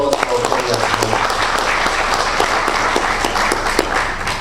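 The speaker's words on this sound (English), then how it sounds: "A big round of applause for Kelious Mlenga." Loud, dense applause from an audience at a public meeting after a speech on a new law, sustained for several seconds, with voices mixed into the clapping.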